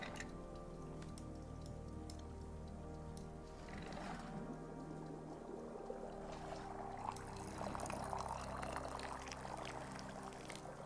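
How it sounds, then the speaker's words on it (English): Tea being poured in the cozy game Wanderstop, a soft continuous liquid stream that swells toward the end, quiet over a low ambient drone. "Pour."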